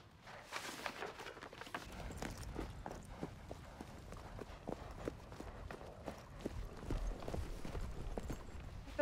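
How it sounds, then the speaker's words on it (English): Horse hooves clip-clop steadily at a walking pace on a moorland track in period England, each hoof strike distinct and fairly close, continuing alone without speech. "That's why I told you to bring Cathy's horse"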